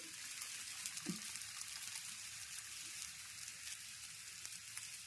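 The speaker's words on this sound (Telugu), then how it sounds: "తిప్పేసుకొని నెయ్యి వేసుకుందామండి." Ghee sizzling on a flipped bobbatlu, a steady soft frying hiss that continues evenly and quietly throughout, with a faint bubbling texture and no voices.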